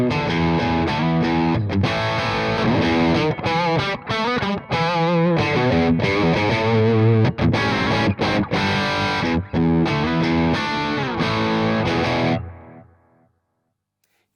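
A distorted electric guitar plays a driving lead through a Bad Cat Lynx amplifier on channel 2 with raised volume and gain, loud and sustained with chords and notes, then cuts off and rings out to silence.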